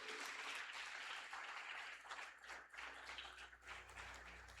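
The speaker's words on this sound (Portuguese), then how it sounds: "Vamos louvar a Deus por isso, aplauda ao Senhor." Broad, steady applause from a church congregation praising God, sustained for several seconds with a slight dip midway before continuing.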